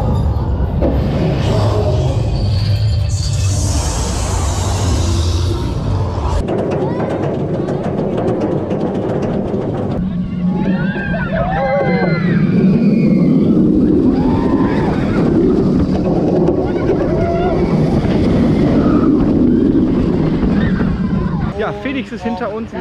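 Phoenix wooden roller coaster at Toverland theme park during a ride, with heavy wind buffeting and rumbling track noise throughout, loud and close, with riders' voices and shouts mixed in.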